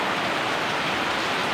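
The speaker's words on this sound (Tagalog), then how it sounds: "Pero nandyan pa rin yung ulan" Steady rain falling, a dense even hiss of drops on surfaces, close and continuous with no other sounds.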